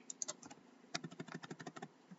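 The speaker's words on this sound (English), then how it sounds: "Let me just type it in." Quick fingers type on a computer keyboard while configuring a Cisco terminal server, producing a short run of close, crisp key clacks in an uneven rhythm, with no one speaking.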